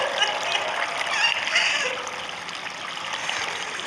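Water in the horror video game Metel makes a steady trickling and splashing stream, moderately loud and continuous, easing slightly after the first couple of seconds.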